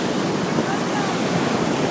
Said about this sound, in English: on the shores of the mighty Pacific Ocean. A rolling, roaring pile of watery water